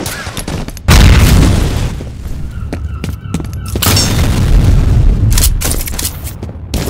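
A loud grenade blast in a chaotic combat scene, a heavy boom that rolls on into sustained rumbling and crackling debris, with further bursts and gunfire-like cracks following.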